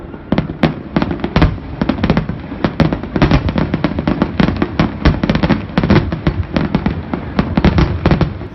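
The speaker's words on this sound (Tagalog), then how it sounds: "isang magarbong fireworks display ang nasaksihan ng lahat." A dense barrage of fireworks bursts and crackles at the closing of the 2019 Panagbenga Festival in Baguio City, Philippines, loud and continuous with rapid overlapping pops and booms and no talk.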